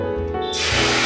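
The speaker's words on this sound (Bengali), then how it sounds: "জল দিয়ে দেবো।" Water is poured into a hot pan of fried spices, including coriander powder, for a vegetarian curry. A loud, close hiss and spray bursts up and builds over about a second.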